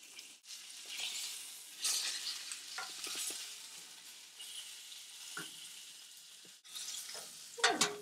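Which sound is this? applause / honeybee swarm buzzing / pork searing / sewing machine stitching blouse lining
pork searing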